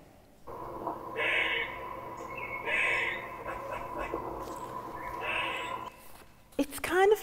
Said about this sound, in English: Yeah, it's not a bird. It's actually a grey squirrel.